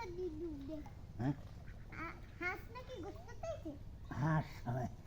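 Ducks quacking near water where someone is bathing and swimming, a few short nasal calls mixed in with close conversational voices and splashing-free talk.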